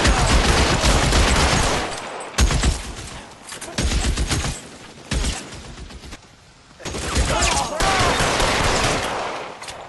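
Heavy gunfire in the LA Noire video game, loud close bursts of rapid shots in several long volleys separated by brief lulls, with a faint voice now and then.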